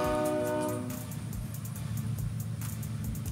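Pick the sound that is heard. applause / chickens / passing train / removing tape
passing train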